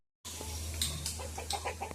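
A hen clucks several times in short, nearby bursts over a low background hum, with no one speaking.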